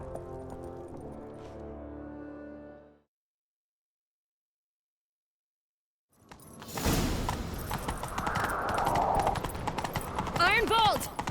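In The Witcher 3: Wild Hunt, rapid hoofbeats of a galloping horse pound over a dense, noisy soundscape after a stretch of music and a silent gap, loud and close, with shouting voices mixed in.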